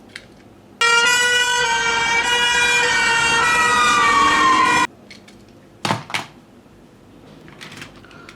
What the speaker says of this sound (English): Emergency ambulance.